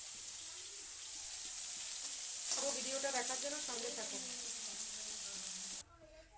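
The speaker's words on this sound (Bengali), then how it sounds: "প্রথমে সয়াবিনটাকে ভালো করে ভেজে নেবো" Soybean chunks frying in a pan of hot oil give off a soft, steady sizzle that swells briefly with stirring, heard under a voice speaking before the sound cuts off.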